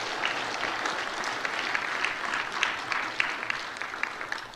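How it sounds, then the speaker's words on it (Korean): Applause fills a church service as newly appointed district leaders are congratulated, a steady dense crowd clapping throughout with no talking. "큰 박수로 우리 축하 격려하겠습니다"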